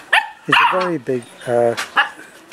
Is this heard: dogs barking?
yes